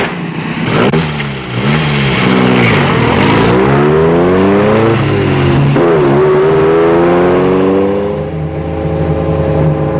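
A car engine drives loudly and close, revving up repeatedly with rising pitch sweeps as it climbs through the gears, easing off briefly between pulls.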